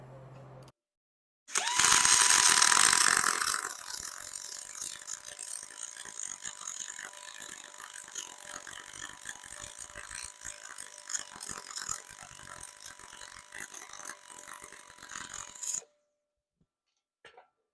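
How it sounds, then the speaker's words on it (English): Aluminum being MIG welded with an Arccaptain MIG 200 and LBT-150 spool gun: a steady crackling, sizzling buzz runs unbroken for about fourteen seconds, loudest in its first two seconds, with no talking. "That's a good weld."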